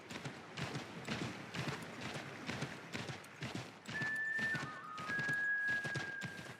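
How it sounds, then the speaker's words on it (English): Rhythmic hoofbeats of a galloping horse in the video game Assassin's Creed III, steady and close, with a faint tonal sound joining partway through. "Horse isn't happy that I'm sticking the spurs to it all the time."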